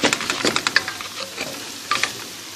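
A wooden spoon scrapes and clicks against a pot while stirring white rice, a quick series of sharp, close taps and scrapes with a brief pause before another short flurry.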